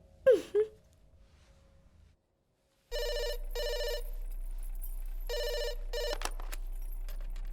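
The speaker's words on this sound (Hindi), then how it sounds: "तुम्हारे लिए फोन है" A telephone rings in repeated electronic bursts after a brief moaning voice and a moment of silence, the trilling pulses coming in pairs over a low steady hum, fairly close and clear.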